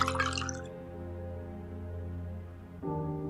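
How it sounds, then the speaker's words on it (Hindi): Water poured into a glass indoors, a steady, soft filling sound whose pitch shifts near the end as the glass fills, with no voices over it. "मैं तुम्हें पानी डाल कर देती हूँ।"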